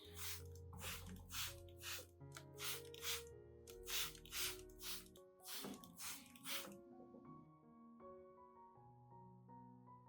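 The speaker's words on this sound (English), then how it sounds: "Be sure to spray both sides of the leaves to clean the surface" A spray bottle mists both sides of plant leaves in a run of quick, crisp hissing spritzes with short gaps between them, over soft background music, after which the sprays stop and only the music carries on.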